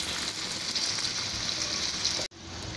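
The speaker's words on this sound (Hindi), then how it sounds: "आप देख ही सकते हैं, हमने इसमें इनको शैलो फ्राई कर रहे हैं, बहुत कम तेल का हमने इस्तेमाल किया है इसमें" Lobongo lotika sweets shallow fry in a little oil, giving a steady, close sizzling hiss that briefly cuts out near the end before resuming.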